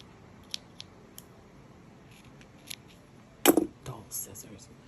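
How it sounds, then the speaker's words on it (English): A few small snips and clicks of dull scissors cutting yarn, then a louder crisp cut, with faint handling noises and soft breathy sounds close by. "Dull scissors."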